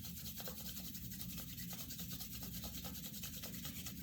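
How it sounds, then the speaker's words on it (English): Palms rubbing steadily together during a guided meditation, a soft continuous swishing friction with a gentle back-and-forth rhythm, close and fairly quiet, with no talking. "slowly begin to rub your hands"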